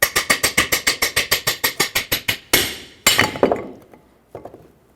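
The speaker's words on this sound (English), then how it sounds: "I'm just going to take a hammer and tap it through the rest of the way until it pops out" Steel hammer blows strike a seized lower ball joint in a 2011-2016 Ford F-350 steering knuckle, about twenty sharp, evenly spaced metallic taps with a few heavier, slower hits as the joint breaks free, close and loud.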